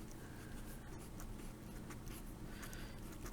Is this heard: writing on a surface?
yes